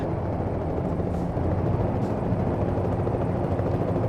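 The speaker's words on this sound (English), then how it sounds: "There's a helicopter up here" A helicopter hovers above a main road in American Truck Simulator, its dense, rumbling rotor thrum steady and full throughout, mixed into a constant low wash of game engine noise.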